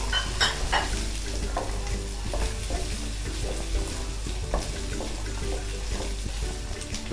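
Chopped onion, capsicum and carrot sautéing in a pan, with a steady sizzle, occasional stirring scrapes and a low background hum, no voices.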